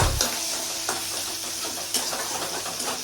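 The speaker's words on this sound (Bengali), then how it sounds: "এটাকে একটু লাল লাল করে ভাজছি।" Tomato and grated onion fry in white vegetable oil while being stirred, a steady, close sizzle with occasional scraping strokes and a brief low thump at the start, no voices.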